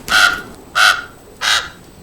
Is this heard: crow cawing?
yes